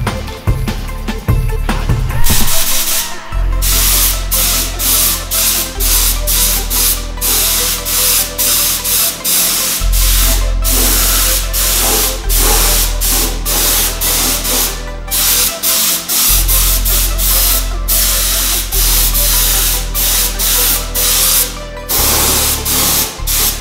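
Spray paint hissing onto a Trek Speed Concept triathlon bike frame for a gray section, with long continuous bursts broken by short pauses, close and loud over a low steady hum, no talk.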